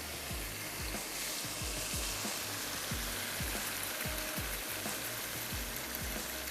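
A spoon stirs yogurt into beef tikka biryani masala in a pot, giving a steady sizzle of frying spices with repeated scraping and clanking strokes against the metal at an irregular rhythm, close and moderately loud.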